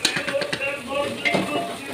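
Chicken pieces are being stirred with salt and yogurt for biryani, giving soft wet squelching and scraping from a spoon against a bowl, close and fairly quiet, with faint background sounds.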